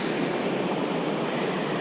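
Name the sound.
strong water flow below Fobney Lock on the River Kennet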